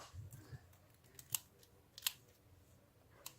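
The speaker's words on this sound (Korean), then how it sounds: "이럴 때는 가위가 최강이죠 여러분 다이소에서 구매한 가위" Scissors bought at Daiso snip a few times, with faint sharp clicks spaced about a second apart over quiet background rustling, close but soft.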